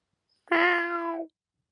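A cat gives one clear, drawn-out meow lasting under a second, close and alone in an otherwise quiet room.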